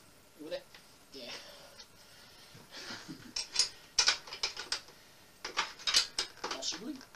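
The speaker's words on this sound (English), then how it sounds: "I've got a 15mm wrench. This one might do it." A 15mm wrench working a nut on the wheel of an upside-down Saracen bike, with light metallic clicks and clinks of the tool along with short ratcheting bursts, fairly close, and a voice speaking briefly now and then.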